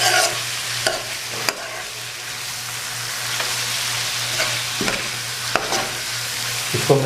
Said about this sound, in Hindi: ये भिंडी जो पहले फ्राई की थी ये डाल देंगे और साथ में ये जो प्याज थे ये भी डाल देंगे और इसको अच्छी तरह मिक्स कर लेंगे।